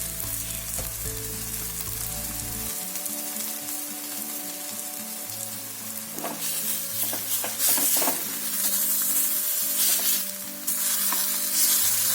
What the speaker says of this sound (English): when you fry it like this, then the smell will not come in that